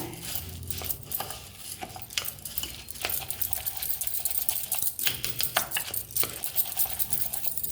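Puffed rice being tossed and mixed for Bombay bhel chaat makes a dry, rapid crackling and rustling with quick clinks of a spoon against the bowl, close and fairly soft.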